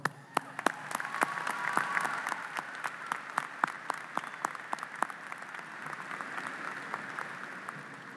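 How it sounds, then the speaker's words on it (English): Commencement ceremony audience applauding at a distance, a soft continuous patter with distinct individual claps ringing out sharply above it, sustained evenly throughout. "I would like to ask my fellow Bruins to give them a round of applause"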